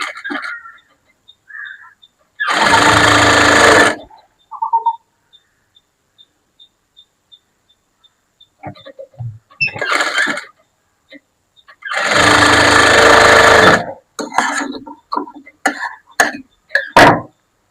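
A sewing machine stitches a blouse shoulder seam in two close, loud bursts of about two seconds each, separated by quiet handling noises and a few brief voice sounds.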